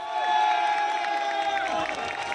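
Crowd of press gathered outside the National Assembly, applauding after the vote to reverse martial law; a steady mix of clapping and cheering voices with shouts, fairly loud throughout.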